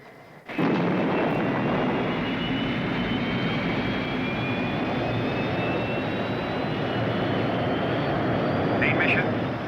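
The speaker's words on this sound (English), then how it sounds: "We have liftoff." Spacecraft lifting off in a science-fiction series: a sudden, loud, sustained engine roar bursts in after a brief quiet start and holds steady and close to the end.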